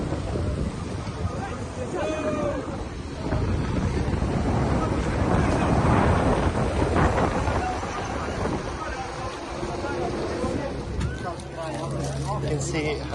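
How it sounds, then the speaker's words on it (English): Strong wind gusts buffet the microphone beside a river in Mostar, a steady broadband roar that swells in the middle and eases toward the end, with faint voices and other activity underneath. "Very windy."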